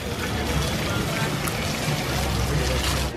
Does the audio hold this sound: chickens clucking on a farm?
no